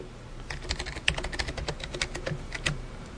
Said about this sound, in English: So type in your password